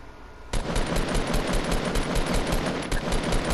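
Rapid automatic gunfire in the Fortnite video game, a loud sustained burst of closely spaced shots that starts abruptly after a brief quiet moment and keeps hammering steadily to the end.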